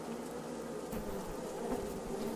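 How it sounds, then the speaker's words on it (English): Buzzing swarm of bees attacking in the mobile game Dragon City, a steady droning hum that fills the whole moment with small swells, no talking over it. "Send in the bees."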